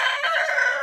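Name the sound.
rooster crowing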